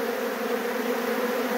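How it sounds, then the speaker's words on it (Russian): Honey bees buzz around hive frames in a continuous dense drone, steady and loud throughout with no pauses, a full swarm close by. "Одно удовольствие ходить среди пчел."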